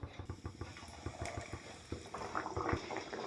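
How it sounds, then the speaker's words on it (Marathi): Pigeon-pea-stuffed kachori pastry frying in hot oil, a dense close bubbling and sizzling with rapid crackling pops, steady and moderately quiet throughout. "तर बघा इथं मी एक कचोरी तेलामध्ये सोडली आहे."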